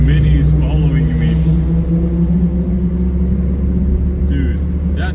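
A car engine rumbles deep and loud at close range, holding a steady throbbing drone throughout while people talk over it.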